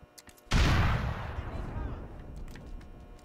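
A grenade bursts in GTA IV with one sharp, loud blast that rolls off into a long, fading rumble of debris and echo, with faint scattered noises before it.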